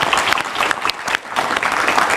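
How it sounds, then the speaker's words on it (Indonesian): A studio audience at a political talk show breaks into loud, close applause, a dense burst of clapping filling the short moment. "tepuk tangan dulu"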